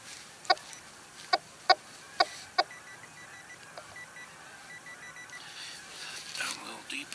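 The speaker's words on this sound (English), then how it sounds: "you can hear the flock of geese coming back from the cornfields" A flock of geese flies back from the cornfields on a December day in Canada, their faint distant honks trailing behind five sharp electronic beeps from a nearby metal detector, with people talking.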